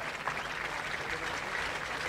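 Golf spectators at the 1986 Dutch Open applaud a second shot on the 16th hole, a steady, fairly faint wash of clapping from a distant gallery that holds even throughout.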